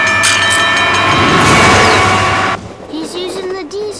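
A toy diesel train runs loudly and close on a model railway with a dense rumbling whir and metallic ringing tones, then cuts off abruptly, followed by quieter sounds with a voice briefly audible.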